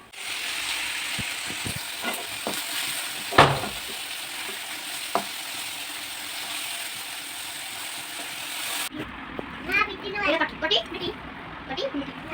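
Potatoes fry in a pan with a strong sizzle and occasional scraping knocks, then the sound turns quieter as voices talk over the cooking toward the end.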